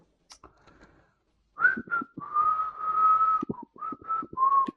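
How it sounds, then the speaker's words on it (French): A person whistles a melodic tune, first a few short notes and then a longer sustained run of sliding and held tones at close range, with no talking. "je siffle."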